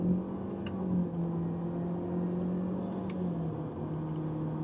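A 2019 Honda Civic with a petrol engine and CVT automatic accelerates along an open highway, its steady engine drone rising gradually beneath continuous road and wind noise, close and moderately loud with no talking.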